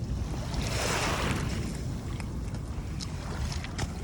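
Waves washing along the shore of Manila Bay, a steady rushing surge with wind buffeting the microphone, close and fairly loud without any voices.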